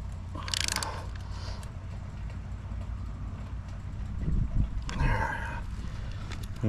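An infant bike trailer fitting is tightened by hand, giving two short bursts of clicking and ratcheting several seconds apart over low background noise.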